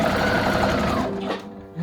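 A sewing machine running with no lower thread whirs rapidly and steadily at close range for about a second, then stops abruptly.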